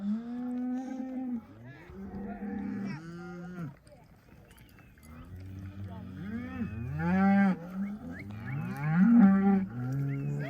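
Cows moo loudly and repeatedly in a rural setting, long drawn calls overlapping one another, some near and some farther off, with occasional voices mixed in.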